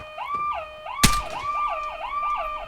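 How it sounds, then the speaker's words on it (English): Car alarms in the Vigor video game wail with a rising and falling electronic tone, cut by a sharp loud bang partway through, then keep cycling steadily. "I set off all the car alarms."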